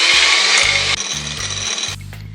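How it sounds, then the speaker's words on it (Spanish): An electric hand mixer whirs loudly as it beats egg yolks with sugar in a bowl for an apple cake, its motor pitch shifting in short bursts over about two seconds. "En otro tazón voy a poner las yemas y voy a batir"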